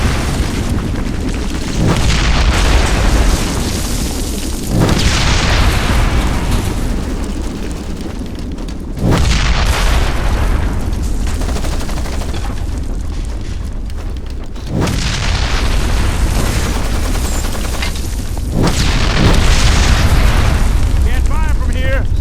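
Zeus rocket explosions in Ghost Recon Advanced Warfighter 2 land as several loud, heavy booms about every five seconds, each rolling into a long rumbling tail over dense battlefield noise.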